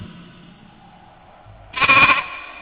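A sheep kept at a desert tent on the road to Medina gives one short, clear bleat up close, preceded by a faint low background hum.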